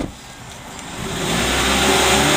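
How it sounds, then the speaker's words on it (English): The turbocharged engine of a 2004 PT Cruiser Limited revs up loudly and close by, its roar swelling in the second half and holding at a strong, steady level. "Listen to that turbo."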